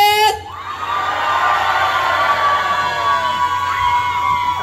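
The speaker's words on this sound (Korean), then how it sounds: "여러분들은 제가 오른손을 번쩍 들며 함성을 질러주시면 됩니다" A festival audience at an autumn flower festival and song contest in Hwasun cheers and shouts together in a loud, sustained roar of whoops and yells that rises after a brief opening burst and holds steady.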